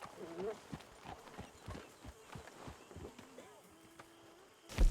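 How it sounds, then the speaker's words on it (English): Horse hooves clip-clop on the ground in Red Dead Redemption 2, a steady walking rhythm of close, moderately loud knocks. Voices speak over the hooves, and a louder burst of sound hits at the very end. "Get that horse out of here."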